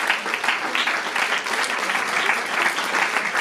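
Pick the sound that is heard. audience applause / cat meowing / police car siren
audience applause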